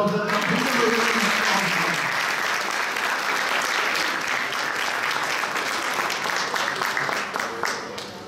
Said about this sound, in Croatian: da sad vam još jedan aplauz za Lena